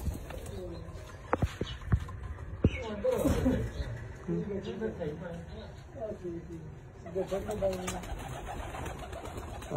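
Racing pigeons at a pigeon club tournament coo softly and steadily nearby, with sharp wing claps as birds fly in, while someone talks over them throughout.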